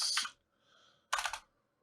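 Quick bursts of keystrokes on a computer keyboard while adding breakpoints to C# code, two short clattering flurries close to the mic with a faint pause between.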